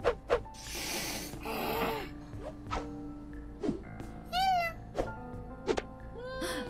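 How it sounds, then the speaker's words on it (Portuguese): Cats yowl and hiss in a scuffle in Minecraft amid game sound effects and music, with sharp bursts of noise and rising squeals. "os gatos estão brigando ali"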